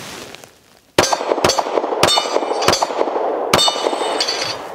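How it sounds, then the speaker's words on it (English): Shots from a Powder River Precision custom XD-M Elite 3.8-inch compact pistol at a range: five loud, sharp cracks spaced irregularly over a few seconds, ringing out over a steady background noise, with no talking. "You can see super soft shooting, and obviously it's performing downrange as well."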